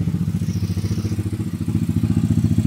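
A 212cc four-valve motorcycle engine idles with a quick, even putter, steady and close, its low thumping pulses repeating without change.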